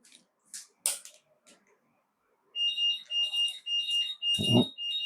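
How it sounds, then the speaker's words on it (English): A LiPo battery charger signals a finished charge with a series of repeated electronic beeps, each short and evenly spaced. They sound moderately loud in the background, after some scattered handling noises, with a brief thump near the end. "little beep in the background there. One of my LiPo batteries has just finished charging."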